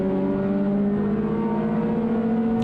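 A touring car engine on the Brands Hatch GP circuit during a CSCC Tin Tops race, heard from on board: a loud, steady, buzzing drone that holds a constant pitch throughout, with no speech.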